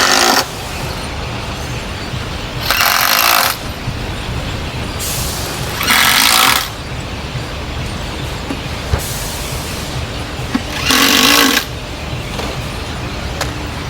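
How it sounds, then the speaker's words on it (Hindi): Workers in an audio factory fasten bolts on speaker cabinets, with three sharp bursts of loud air-tool hiss, each about a second long, standing out over a constant factory hum. "बाकी ज़रूरी वाले बोल्ट जितने हैं वो लगा रहे हैं ये।"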